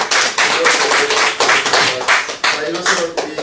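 Audience clapping at a church lecture, loud close claps in uneven bursts rising and falling, with a voice speaking over part of it.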